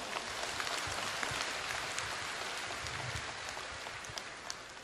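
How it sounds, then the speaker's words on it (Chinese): An audience breaks into applause, a dense, even patter of many hands clapping that sounds almost like rain and slowly fades toward the end. "鼓掌"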